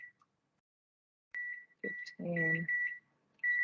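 A kitchen timer gives a series of short electronic beeps as buttons are pressed to set it, with a brief spoken word in between.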